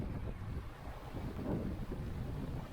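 Strong wind buffets a sailboat in Santa Monica Bay during Santa Ana conditions, a constant loud roar of gusts mixed with rushing water and hull noise, and no voices.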